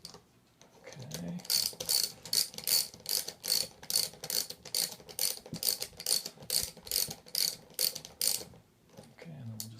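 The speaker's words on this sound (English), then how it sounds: "you can just kind of center the washer as you're tightening the nut down" Nuts being tightened down onto washers during a Pearson pump seal replacement, heard as a steady run of close, crisp ratchet clicks in regular bursts of about two per second, with a faint voice briefly at the start and end.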